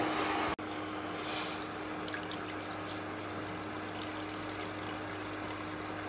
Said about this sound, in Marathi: याच्यामध्ये आपण 8 ते 10 कप पाणी घालून घेऊया